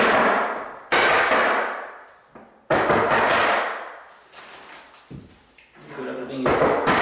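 Frameless RTA vanity cabinet parts being tapped into place during assembly, giving a series of loud, close knocks and thuds spread irregularly through the clip, each ringing out briefly before fading.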